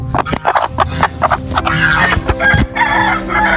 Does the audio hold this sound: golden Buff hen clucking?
yes